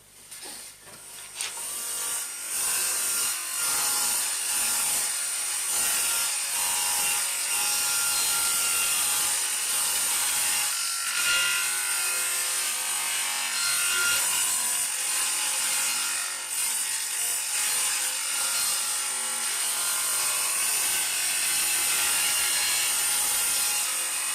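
A hand saw cuts through a tilted wooden workpiece clamped at an angle, steady back-and-forth rasping strokes repeating close up for the whole stretch.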